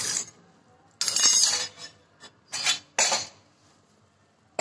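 A spoon scraping ground ghugri sprouts out of a steel mixer jar, several loud rasping scrapes and clinks in separate bursts with short quiet gaps between them.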